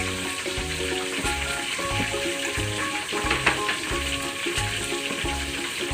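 Garlic and onion sizzle steadily in fresh coconut milk for kare-kare sa gata, a continuous close bubbling fry with faint stirring and no voices.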